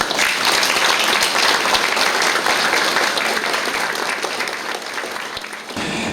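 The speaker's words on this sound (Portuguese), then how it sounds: "Eu convido ao palco o escritor Mário Prata para os aplausos de vocês." Audience applause welcoming writer Mário Prata to the stage at a literary evening, a dense steady wash of clapping that gradually fades slightly toward the end.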